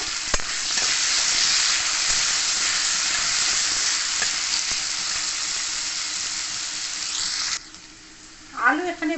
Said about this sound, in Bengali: আলুর মধ্যে সামান্য নুন আর হলুদ পরিমাণ মতন দিয়ে আলুটাকে ভেজে নেব।